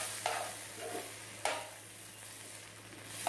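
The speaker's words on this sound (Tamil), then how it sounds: "நல்லா எல்லா பொட்டேட்டோ மேலேயும் இந்த மசாலா ஸ்ப்ரெட் ஆகிற அளவுக்கு கிளறிக்கோங்க." Masala-coated sliced potatoes frying in a pan, a soft continuous sizzle broken by a few scraping stirs of a spoon against the pan, faint and close with no talk.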